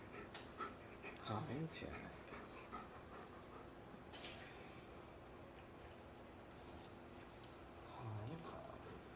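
Several puppies pant softly indoors, rhythmic breathing close by and quiet, with a person talking to them over it.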